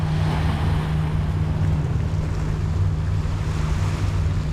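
Water flows steadily at Singapore's Marina Barrage in a dense, continuous rushing wash with a low rumble beneath, constant in level throughout and without voices.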